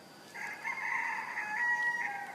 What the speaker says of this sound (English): Roosters singing. Roosters in Dahab.